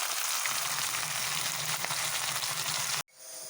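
Catla fish head pieces frying in hot oil in a kadai give a loud, steady sizzle for about three seconds, then stop abruptly, leaving a quiet room.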